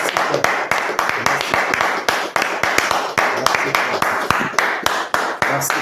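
Church congregation clapping in a steady rhythm, with many hands striking together in loud, even beats while voices cheer and acclaim in the background.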